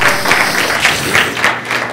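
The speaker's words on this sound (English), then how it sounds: "Go ahead, clap for our young people." A church congregation clapping for its young people during a Sunday service, a dense run of mixed handclaps filling the room at a steady, even level for a couple of seconds.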